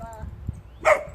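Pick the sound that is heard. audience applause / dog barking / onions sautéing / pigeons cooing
dog barking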